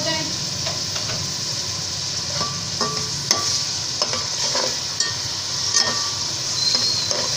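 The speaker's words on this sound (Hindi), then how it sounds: "अब मैं इनको थोड़ा सा पकाऊंगी ताकि ये नरम हो जाए।" Chopped tomatoes and garlic fry in a pan for a chicken mandi dish, giving a steady close sizzle with scattered clinks and scrapes of stirring, and no talking.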